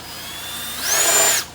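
A handheld power drill bores into metal while fitting a Nissan Titan window into a Chevy truck, its whine climbing sharply in pitch, holding loud for a moment, then cutting off abruptly, with no talking.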